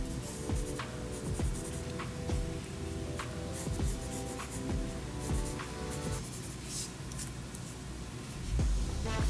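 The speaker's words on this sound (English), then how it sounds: "you can go ahead and draw that waist belt" Pencil drawing on paper, sketching the waist belt of a cartoon warrior figure: close, continuous scratchy strokes with short quick flicks and steady rubbing, with no talking.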